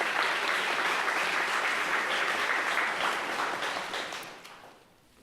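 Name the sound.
round of applause at a city council meeting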